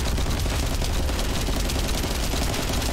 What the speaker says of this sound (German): Ich schieße mal so unter die Platte.